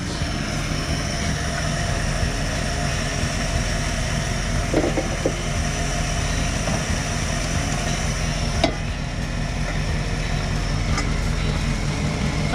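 A 1971 Dodge parts truck with a 318 V8 idles steadily nearby, a continuous low rumble with an even beat throughout, no one talking.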